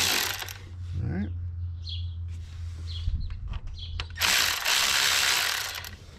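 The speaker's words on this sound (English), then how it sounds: "Switch over to my electric ratchet and take these bad boys out." An electric ratchet whirs and clicks loosening thermostat housing bolts on a 2015 Chevrolet Silverado, short bursts of mechanical buzzing with a low motor hum, close up in a garage.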